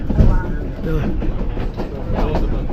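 The Durango and Silverton train rolls along its mountain rails in a steady rumbling clatter with rhythmic wheel clicks, heard from on board, while a person talks over the noise.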